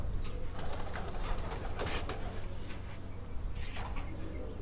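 Pigeons from a Mansa, Punjab loft coo and call over a steady low hum of background noise, with scattered faint chirps and rustles throughout.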